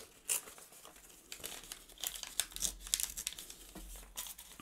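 Paper tears slowly backwards along a paper-clipped guide strip, soft crinkling rips and crackles in short bursts, close and fairly quiet, with no voice.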